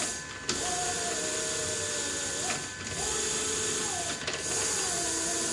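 HoverDisk motors whirring under joystick control, a steady mechanical hum with rising and falling pitch sweeps and brief clicks, close and continuous.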